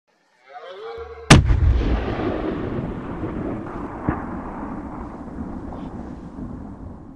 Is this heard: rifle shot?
yes